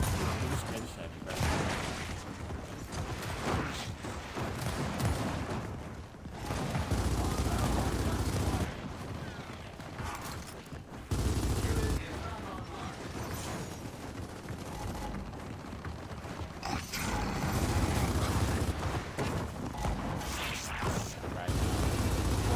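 Continuous gunfire in the video game Gears of War 4, with dense rapid automatic bursts and heavy blasts running throughout, loud and steady under a player's voice chat.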